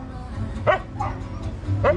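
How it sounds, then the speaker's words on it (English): A dog gives three quick, high, yelping barks at close range, spaced unevenly over a couple of seconds, over low background rumble. "Hello, what's the matter? Why are you barking?"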